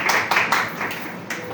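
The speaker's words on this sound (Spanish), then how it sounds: "Vamos, un aplauso a Dios por la vida de Bernie." A church congregation at a service breaks into applause offered to God: a short run of distinct hand claps that swells and thins, close and moderately loud.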